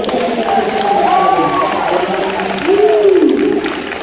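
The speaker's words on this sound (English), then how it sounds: "Round of applause for Grant." An audience at a junior high school awards ceremony claps and cheers in a steady, sustained wash, with a few whoops rising over the crowd noise.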